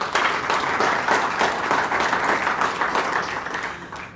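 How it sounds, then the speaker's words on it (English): Sustained applause from an audience at an annual memorial lecture, a dense, steady wash of many hands clapping that holds for about four seconds before tapering slightly at the end. "A round of applause, please."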